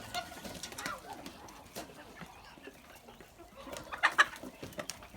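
Amrox and Livenska hens clucking nearby, soft scattered clucks and murmurs with a couple of louder calls toward the end, mixed with faint coop rustling.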